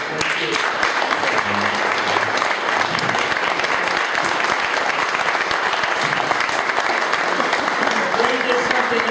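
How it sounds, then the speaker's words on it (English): Audience at a commanders dinner breaking into sustained, dense applause, loud and continuous throughout, with voices faintly mixed into the clapping. "Ray, I'm among others who applaud him for it"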